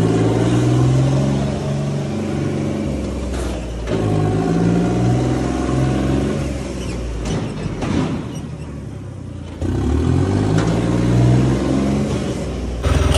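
A John Deere 5305 tractor pulling a 16-disc harrow drives in through a farmyard gate, its diesel engine a loud, close, steady rumble that swells and dips as the throttle changes.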